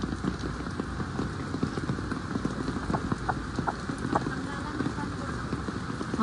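Heavy rain pours steadily on a surface in a wet Philippine outdoor setting, a dense continuous hiss with scattered drops and patters close by, with faint voices and background sounds mixed in.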